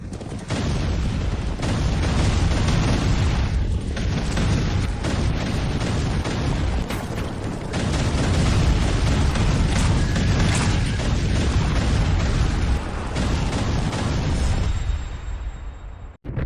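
Tank cannon fire and explosions in an animated battle, a dense continuous barrage of booms and blasts filling the clip, loud and close, fading out near the end.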